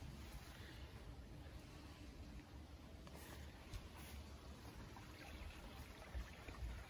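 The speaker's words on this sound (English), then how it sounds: "Hear the sound of the water, the creek in the background" Steady rushing water from a creek under a thick forest canopy in rural Australia, a continuous broadband wash heard in the background with no talking.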